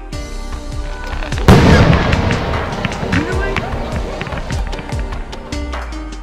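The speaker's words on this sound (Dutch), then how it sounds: "Deze worden door middel van een aangebrachte buskruitlading uit de mortierbuizen geschoten." Firework mortar shells thump upward from mortar tubes, launched by gunpowder charges, and burst in a dense, rapid barrage of cracks and booms, loud and continuous, at a fireworks show.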